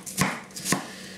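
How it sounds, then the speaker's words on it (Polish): A knife chops an onion on a wooden board twice, two crisp knocks spaced about half a second apart, close and clear. "Siekam cebulę na taką średnią kostkę."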